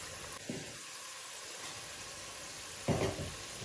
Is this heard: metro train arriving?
no